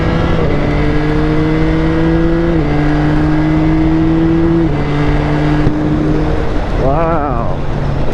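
Yamaha R9 motorcycle engine while riding, a loud steady hum holding even revs with stepwise shifts in pitch and constant wind rush, a voice briefly over it near the end.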